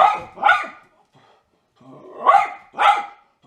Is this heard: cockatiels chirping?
no